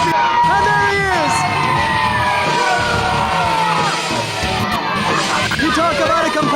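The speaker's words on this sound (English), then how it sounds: "The crowd go absolutely wild for the former ECW World Television Champion." A wrestling crowd roars with loud cheers, yells and whoops in an ovation for Kid Kash, former ECW World Television Champion, a dense, continuous wall of voices close and loud throughout.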